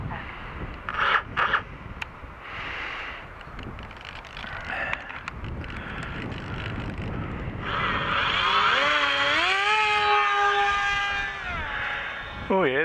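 A small RC wing's electric motor whines in flight, heard amid wind buffeting at first, then rising and falling in pitch as the throttle changes, with talk over parts of it.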